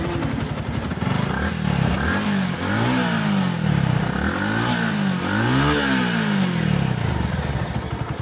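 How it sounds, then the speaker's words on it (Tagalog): A Yamaha motorcycle engine, its throttle cable stiff from sitting unused, revs up and down in repeated swelling surges over a steady idle, loud and close with no talking. "Parang ang lakas-lakas ng makina niya, no?"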